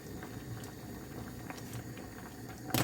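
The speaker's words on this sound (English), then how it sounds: "The cauliflower bubbling away, I'll just turn the heat down on that one." A pot of cauliflower boiling on the stove, with a steady dense bubbling and pattering from the water and a louder clatter near the end.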